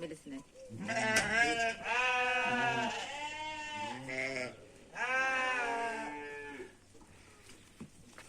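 Sheep bleating loudly and close by in a village setting around milking time, several long wavering calls in succession with short pauses between them, and a faint low hum underneath.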